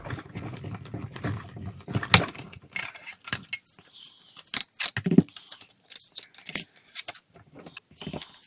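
Manual die-cutting machine pressing a scalloped card shape through its plates gives scattered mechanical clicks, thumps and rubbing crackles of uneven rhythm, fairly faint and close, with quiet pauses between.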